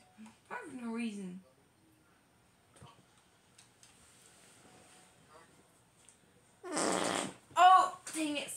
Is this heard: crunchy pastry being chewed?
no